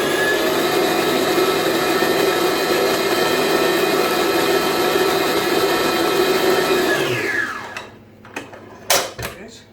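Electric mixer whirring loudly and steadily as it mixes batter for sticky rhubarb buns, running continuously for several seconds before switching off and winding down, followed by a few faint scraping knocks.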